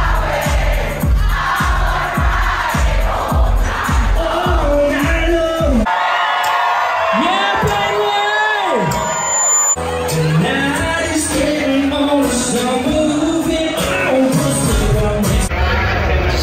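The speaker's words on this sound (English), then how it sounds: "The crowd is rowdy as all hell." A rowdy crowd at a live concert cheers, whoops and shouts continuously, loud and close throughout, with a brief dip in intensity partway before the roar builds again.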